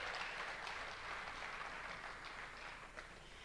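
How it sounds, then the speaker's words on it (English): Sustained audience applause at a teacher of the year awards ceremony, many hands clapping in a steady, dense wash that holds fairly level throughout with no voices over it. "Let's give her another round of applause."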